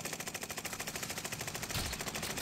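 Rapid automatic gunfire in the video game Warzone, a fast rattling burst of evenly spaced shots running continuously for a couple of seconds, fairly loud and close.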